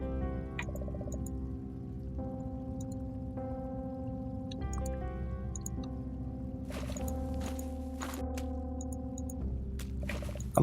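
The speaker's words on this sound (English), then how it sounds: "You can hear the dripping, though." Water dripping somewhere in a tunnel in a Goosebumps PC game, sparse soft plinks at irregular intervals, faint against a constant low hum and sustained tonal music.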